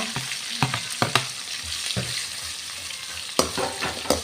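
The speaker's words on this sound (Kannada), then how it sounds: "ಫ್ರೈ ಮಾಡ್ತೀನಿ ಈಗ ಕಾಯಿ ಮಿಕ್ಸ್ ಪಾಡ್ದ" Coconut masala mix frying in a pan for hotel-style masala dosa, a steady sizzle broken by sharp spoon scrapes and stirring knocks at irregular intervals, close and moderately loud with no talking.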